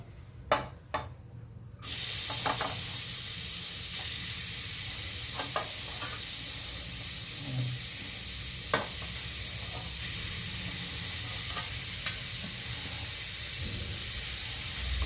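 Grated radish stirred with spices and black cumin in a pan, a continuous sizzle with occasional scraping taps of a spoon, fairly soft and steady after a quiet start.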